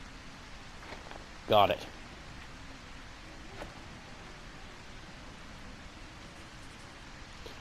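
Steady soft hiss of rain or a running water stream in A Quiet Place: The Road Ahead, a constant faint wash broken once by a brief short spoken phrase.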